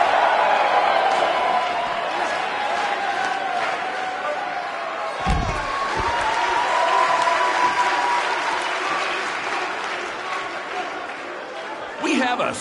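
A large crowd in WWE 2K19 roars and applauds continuously in a big arena, a sustained wash of cheering under a commentator's voice, with a heavy thud midway.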